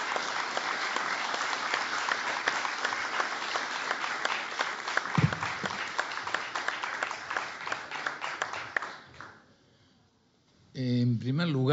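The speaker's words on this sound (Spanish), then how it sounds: "les pido un aplauso para él" Sustained applause from a congress audience at the Second American Horse Industry Congress greets the president, steady clapping that fades out near the end before a voice begins speaking.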